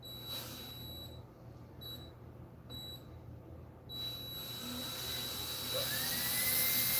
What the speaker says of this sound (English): let's see if we can get this bad boy drilled out